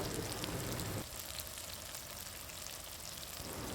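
Spices sizzling steadily in hot oil with green chilies, curry leaves and ginger-garlic paste for a fish masala curry, a dense continuous frying hiss that drops slightly in level partway through.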